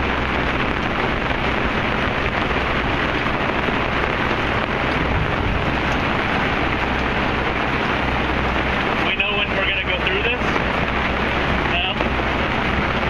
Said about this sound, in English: Now it's just a really good downpour.